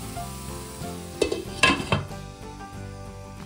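Kidney beans (rajma) cooking in a pan at home give a steady sizzle with stirring, while utensils clatter and clink against the pan in a few sharp bursts mid-way, no speech.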